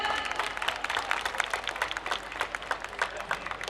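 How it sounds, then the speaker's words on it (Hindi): A crowd at a college cultural fest keeps up fast, dense clapping for a team that has made the institute proud, heard at a distance and fairly faint, with voices mixed in. "तालियों की गड़गड़ाहट रुकनी नहीं चाहिए एवरीवन"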